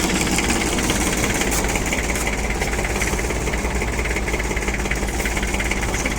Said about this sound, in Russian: после нехитрых манипуляций с заменой аккумулятора самый обыкновенный запуск.